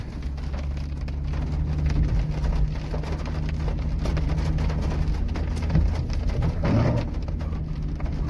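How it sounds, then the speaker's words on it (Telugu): Heavy rain pours down continuously in a steady, dense wash, with a faint low rumble underneath and no voices. "మస్తుగా వాన అయితే పడుతుంది"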